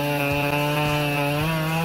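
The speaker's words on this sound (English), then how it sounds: "The chainsaw's working efficiency is amazing." A chainsaw runs steadily at close range with a loud, continuous buzzing drone and slight pitch wobbles, alone without talk.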